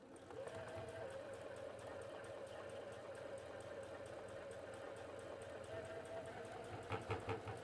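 A sewing machine stitches steadily across the bottom edge of a small fabric Chapstick holder, a continuous mechanical whir with a faint rhythmic needle patter, closer and louder near the end.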